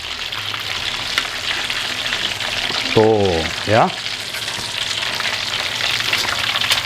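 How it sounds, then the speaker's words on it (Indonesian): Chicken katsu deep-frying in hot oil during a 100-portion batch cook, giving a steady, dense sizzle that runs throughout, with a brief spoken voice rising over it midway. "Nah ini chicken katsunya lagi digoreng-goreng sama si Arsa"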